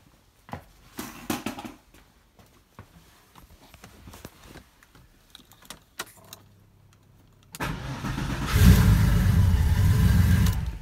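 A Porsche 911 engine is tested with a twin distributor. Scattered clicks and handling noises come first, then the engine starts about three-quarters of the way through and runs loud and close to the end.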